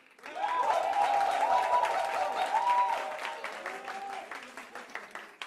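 A studio audience at a DJ battle show bursts into applause to vote for a DJ, a loud, dense wave of clapping that swells quickly, holds for a few seconds, then thins into scattered claps; someone talks over it.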